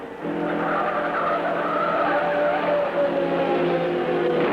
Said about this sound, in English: Turn 2, Larry Rice almost keeps it off the wall